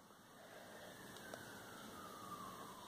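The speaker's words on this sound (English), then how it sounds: "Sorry, weird sirens." Distant sirens wail faintly through steady background noise, a thin drawn-out tone that slowly shifts in pitch and never comes close.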